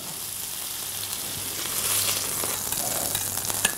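Food sizzles steadily in a hot frying pan, a loud, even hiss with faint clinks near the end and no voices.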